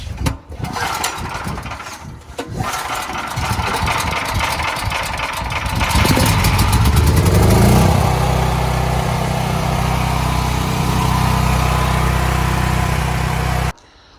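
A small gasoline generator engine, re-choked, sputters through uneven starting attempts and then catches, running at a steady loud idle close to the microphone before cutting off at the end.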